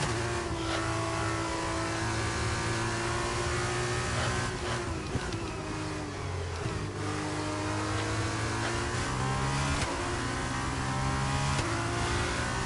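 An F2 race car engine in the F1 22 racing game holds a steady high drone with shifting revs throughout, loud and continuous, with no talk.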